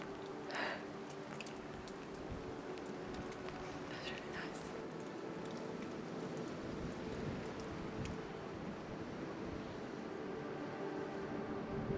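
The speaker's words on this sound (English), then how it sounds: "you can just hear little sounds of rain on" Soft rain patters lightly on a waterproof jacket, a faint steady crackle with occasional sharper drops, quiet and close, outdoors in the Cairngorms.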